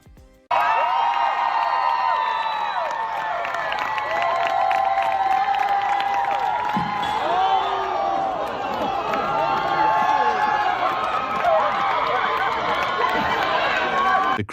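A large crowd at a K-pop award show cheers and screams in a dense, continuous roar that holds strong for the whole stretch, with high excited shrieks layered over it.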